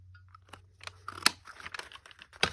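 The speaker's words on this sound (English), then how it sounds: "And I'm going to snip this." Scissors snip through paper craft material, a few sharp crisp cuts scattered over a couple of seconds with light rustling and handling noise between them, close and fairly quiet.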